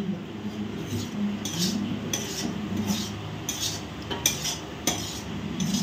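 Coconut pulao being stirred in a pan, a metal spoon scraping and clinking against the pan in repeated short strokes over a low, steady background hum.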